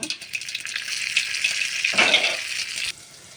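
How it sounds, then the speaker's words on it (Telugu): Tempering of urad dal and curry leaves frying in hot oil, a close, loud steady sizzle with a brief stronger burst of crackle before it cuts off near the end. "పోపు మొత్తం బాగా ఫ్రై అయిపోయింది కదా, ఇప్పుడు ఈ పోపు తీసుకొచ్చి ఇందులో వేసేయడం"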